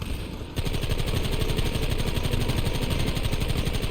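Heavy rifle gunfire in the Red Dead Redemption remaster video game: a loud, dense, rapid stream of shots that runs continuously after a brief quieter lead-in.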